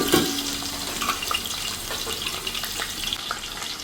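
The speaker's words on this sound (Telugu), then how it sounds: "మనం కట్ చేసి పెట్టిన ఆనియన్స్ కూడా వేసేసుకుంటున్నాను" Chopped onions hitting hot oil in a pan and frying with a steady, close, bright sizzle that holds throughout, with a quick splash of noise at the start.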